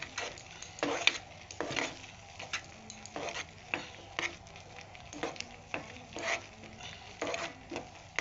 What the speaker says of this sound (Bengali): কিশমিশ আর নারকেল দিয়ে আবার নাড়তে থাকবো।